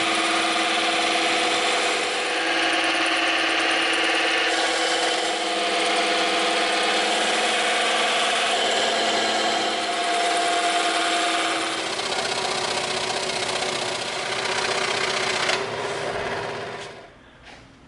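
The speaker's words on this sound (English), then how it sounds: "There is the bulk of our body, 36mm, cut out on the bandsaw." A bandsaw cuts through 36mm-thick EVA foam with a steady, even machine whine for most of the stretch, then winds down and stops near the end.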